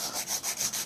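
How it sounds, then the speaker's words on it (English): A 100-grit nail file shapes and tapers artificial nails with quick, close, steady back-and-forth rasping strokes, about five even passes in under a second with no talking. "I'm going to use a 100-100 grit file."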